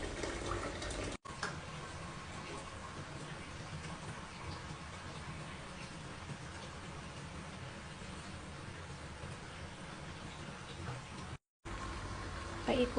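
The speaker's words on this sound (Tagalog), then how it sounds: "nilalagyan ko na lang ng tubig para sabunin ang aking labahin" Tap water runs steadily into a basin to soak laundry for hand washing after rinsing, a continuous broadband rush with brief breaks, no talking.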